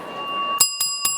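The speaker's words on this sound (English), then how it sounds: "This is the bell." A hand bell rung at a networking keynote, three sharp metallic strikes in quick succession with ringing overtones that linger, loud and close after a steady background tone.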